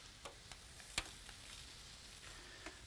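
Parsnip pieces frying in oil give a faint, steady sizzle with a few soft crackles and ticks scattered through it, and no voices.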